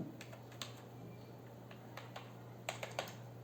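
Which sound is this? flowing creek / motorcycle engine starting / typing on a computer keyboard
typing on a computer keyboard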